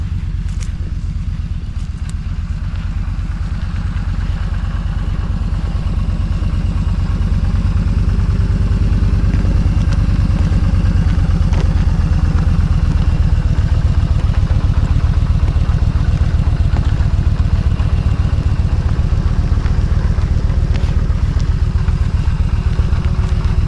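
A learner's motorcycle idles and rides with a steady, close engine putter and a rapid low pulse that continues without a break.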